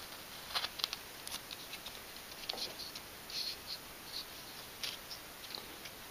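A blade cuts through a thin wooden stick for a model aircraft fuselage, making faint, close, irregular scraping ticks and light crunches spread across several seconds, with no talk.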